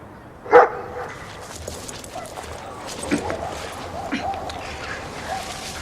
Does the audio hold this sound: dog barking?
yes